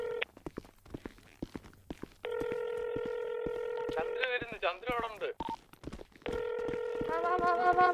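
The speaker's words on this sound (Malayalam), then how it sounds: "ഞാൻ ഫോണിൽ വിളിച്ചോട്ടെ" Telephone keypad tones beep in steady sustained bursts, interrupted by a garbled electronic warble, with faint footsteps and clicks in between.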